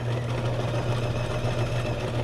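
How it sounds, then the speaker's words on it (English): A sewing machine running a steady zigzag stitch around the edges of a junk journal page, a continuous close, loud mechanical whir with a low hum and no pauses or talk. "So I'm just going to sew around the edges. I'm going to do a zigzag"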